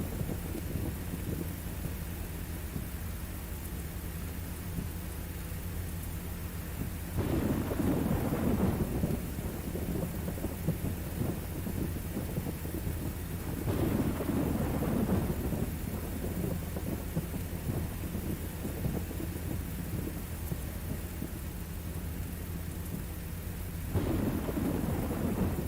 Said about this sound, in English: Lightning's really frequent though, so it's just the field